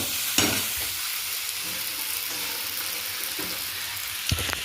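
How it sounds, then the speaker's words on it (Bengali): Spice paste for a fish curry frying and being stirred in a pan, a continuous close sizzle broken by a few sharp scraping knocks of the spoon. "এই যে মশলাটা কষাচ্ছি মাছের ঝোলের জন্য"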